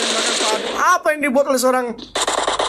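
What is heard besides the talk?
M762 rifle gunfire in video game PUBG Mobile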